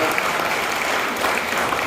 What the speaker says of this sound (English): Let's have a big round of applause, have a practice.